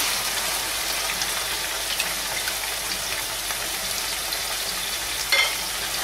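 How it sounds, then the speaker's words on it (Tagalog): Minced meat frying in a pan as it browns for baked macaroni, a steady close sizzle and crackle running throughout with faint stirring, and a brief clatter near the end. "continue lang natin ng frying hanggang maging brown na to"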